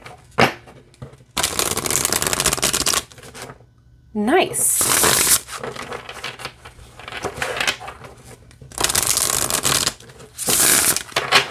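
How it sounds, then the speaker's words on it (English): Enchanted Forest Oracle cards are shuffled in repeated bursts of dense, crisp riffling and snapping, loud and close, separated by short pauses, with a brief spoken word in between. "let's shuffle these and then see how it reads here."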